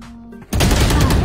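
Burst of rapid gunfire in Valorant erupts abruptly after a brief quiet tone, loud and close, continuing densely to the end.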